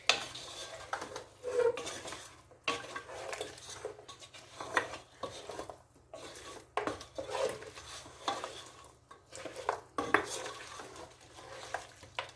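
Chilli chicken stirred in a frying pan, a spoon scraping and clattering against the metal in repeated strokes over a soft sizzle, close and alone with no talk.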